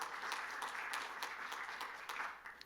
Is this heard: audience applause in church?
yes